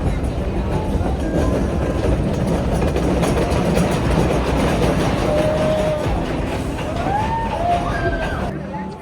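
A roller coaster train runs on its track at Kentucky Kingdom during a Christmas event. The rumble and clatter are loud and sustained, with crowd chatter and voices mixed in, and brief high squeals near the end.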